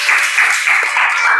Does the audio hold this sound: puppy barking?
no